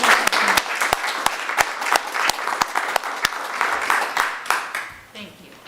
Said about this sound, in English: So join me in a round of applause for our board members.